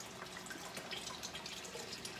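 Beef broth poured from a 32-ounce carton into a pot of cooked beans, giving a steady, soft liquid splashing and trickling close by with no talk.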